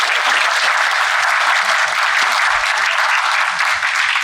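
A university audience in Faisalabad applauds loudly and steadily. The clapping stays dense and even for several seconds, with only a faint murmur of the crowd beneath it.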